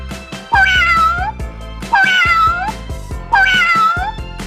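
A cat meows three times in a row, loud and close, each call a drawn-out wavering cry with short pauses between.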